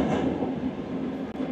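Inside Uzbekistan's high-speed train running from Tashkent to Bukhara, a steady low rumble of carriages at speed hums continuously with faint rail clatter, no voices present.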